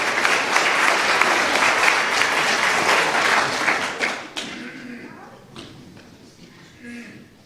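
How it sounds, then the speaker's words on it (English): A congregation gives a round of applause at a service, a loud dense burst of clapping that fades out midway, followed by scattered claps, thumps and quiet room noise. "Let's give ourselves, all of us, a round of applause."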